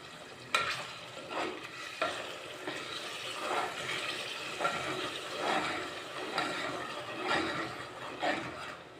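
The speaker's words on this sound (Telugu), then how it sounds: "బాగా వేయించుకోవాలి." Goat head meat curry with tomato paste fries in a pan, a close, steady sizzle punctuated by rhythmic spoon-stirring scrapes every second or so, with no voices.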